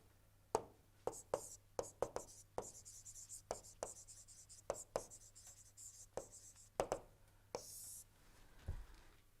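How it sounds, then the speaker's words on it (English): Sharp tapping and scraping strokes of chalk or marker writing on a board in an engineering lecture hall, coming in irregular quick clusters with pauses and ending in a soft thud, heard close and alone. "if I write over here only"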